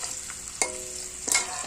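Vegetable stalks hit oil tempered with black cumin, giving a steady high sizzle broken by two louder bursts as they land and are stirred, close and alone with no talk.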